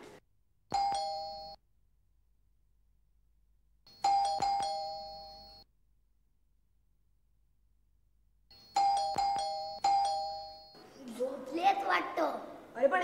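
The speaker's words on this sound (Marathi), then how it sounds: "बेल वाजवून बघूया ना" A doorbell chimes three times in spaced bursts, the last two rings close together, followed by a person speaking briefly at the end.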